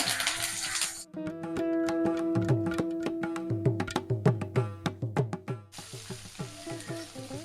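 Mustard seeds, urad dal and curry leaves hit hot oil in a kadai, a loud broadband sizzle at the start and end, with a sharp run of pops and crackles under music in between.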